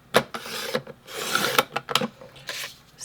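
A rotary cutter slices quilting fabric into 2.5 inch squares, giving several short, close, rasping strokes separated by brief pauses.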